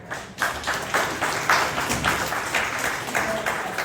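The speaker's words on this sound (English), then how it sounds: "So big round of applause to all of you." Audience at an electric vehicle event applauds the EV Car Club of Connecticut, a fairly loud burst of many hands clapping that starts abruptly and carries on steadily.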